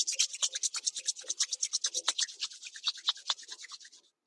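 Palms of the hands rub briskly together in a quick, even back-and-forth rhythm of dry swishing strokes, close and fairly soft, slowing to a stop at the end.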